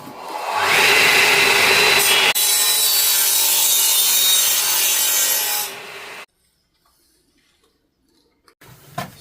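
A saw cuts through timber on a building job in a loud, steady stretch of rasping strokes lasting several seconds. It stops abruptly and is followed by near silence, with a faint knock at the end.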